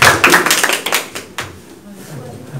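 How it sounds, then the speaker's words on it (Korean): A small seminar audience at a crowdfunding briefing claps to welcome a presenter, a handful of distinct, sharp hand claps close by that thin out into scattered claps and quiet. "박수 부탁드릴게요"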